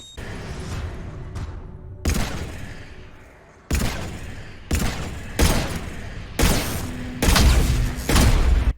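Shepard's gun firing during the Destroy ending of Mass Effect 3: a series of loud, sharp shots and booming bursts in uneven volleys over a low rumbling backdrop, without any voices.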